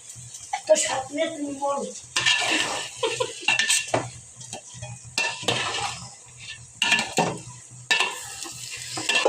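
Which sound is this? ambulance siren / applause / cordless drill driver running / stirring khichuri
stirring khichuri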